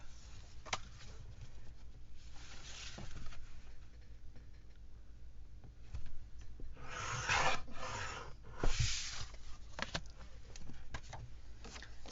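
Excess paper is trimmed off a handmade journal, with soft scraping, rubbing and cutting sounds close by over quiet room noise, plus a couple of brief rasping strokes.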